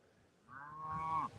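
A single cow on a windy hilltop farm lets out one drawn-out moo that swells and then cuts off, fairly close, with no talking.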